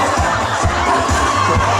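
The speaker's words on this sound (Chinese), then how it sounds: "请你给我一个热情掌声" A crowd at an evening outdoor concert during a Taoyuan temple culture festival breaks into a dense roar of applause and cheering. The sound is loud and close, with scattered shouts mixed in.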